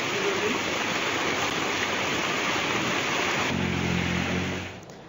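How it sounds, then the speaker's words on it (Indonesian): Heavy rain pours steadily during a flood, a dense continuous roar of water that holds loud and unbroken before fading slightly at the very end. "mengingat curah hujan masih tinggi"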